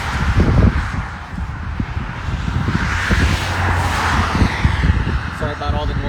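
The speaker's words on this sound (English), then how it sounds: "Sorry about all the noise with the traffic going by." Cars rumble past on a busy Ohio state route, a continuous wash of traffic swelling and fading, while people talk nearby over the noise.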